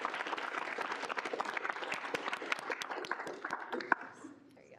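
A student senate meeting room fills with a round of applause, crisp close claps from a modest group continuing for about four seconds before trailing off, with faint voices around.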